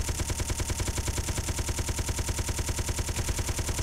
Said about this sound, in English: He is definitely shooting.